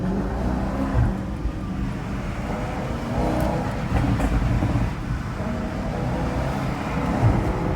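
A car passes by on a road while the vehicle is stopped by police, its broad engine and tyre rumble steady and fairly close throughout, swelling slightly and fading with no voices.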